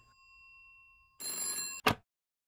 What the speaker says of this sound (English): Telephone's ringing, dear.